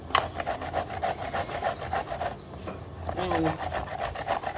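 Green papaya is grated by hand for atchara pickle, with fast, steady rasping strokes scraping on and on and a brief voice in the background.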